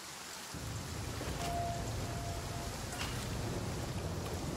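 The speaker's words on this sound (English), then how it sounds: "Why is it still raining?" Rain in the survival video game The Flame in the Flood, a steady, hissing downpour that starts abruptly and carries on evenly with a faint rumble beneath.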